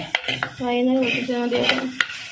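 Masala fries in a pan while a spoon stirs and clinks against the metal. A soft sizzle runs underneath, and a sustained tonal whine rises in the middle.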